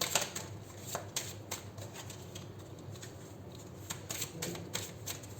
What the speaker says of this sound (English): We'll take a couple of cards from here after 3 shuffles.